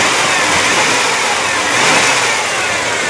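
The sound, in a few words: 1997 Chevy C1500 truck engine running and revving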